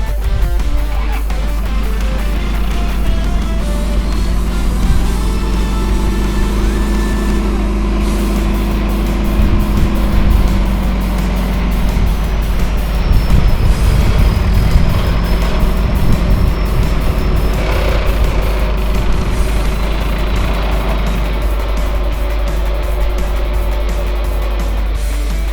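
A Toyota Hilux on leaf springs creeps onto a flex ramp, its engine a steady low drone with a mid-clip surge of revs and some creaking, heard close over constant wind rumble.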